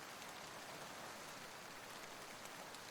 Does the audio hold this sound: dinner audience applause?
no